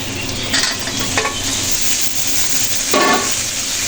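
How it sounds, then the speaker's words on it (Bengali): Chopped tomatoes tossed into a chowmein stir-fry crackle in a hot pan, with a loud continuous sizzle and several scraping stirs and bursts of spitting, close up. "এখন কেটে রাখা টমেটো কুচিগুলো দিয়ে দেব।"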